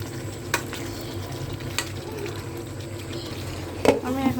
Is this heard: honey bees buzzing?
no